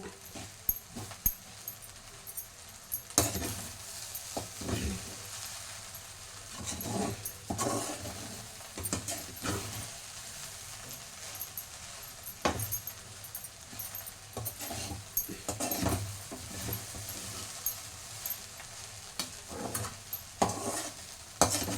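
Chicken fried rice seasoned with pepper powder is stirred in a pan, with repeated scraping strokes of a spatula over a soft, continuous sizzle.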